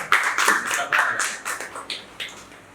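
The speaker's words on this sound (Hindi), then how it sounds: "जोरदार तालियों से इस्तकबाल कीजिए कासिम रजा साहब का।" Sparse, uneven clapping from a small audience at a Hindi-Urdu poetry gathering (kavi sammelan), distinct separate claps in a loose rhythm, fairly close and without talk.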